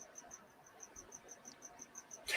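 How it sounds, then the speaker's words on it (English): Crickets chirping indoors in a house overrun with them, a faint, steady train of evenly spaced high chirps repeating about every third of a second against quiet room tone. "My house is infested with crickets."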